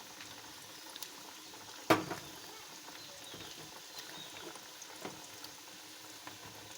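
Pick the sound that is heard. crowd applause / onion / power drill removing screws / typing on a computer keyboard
onion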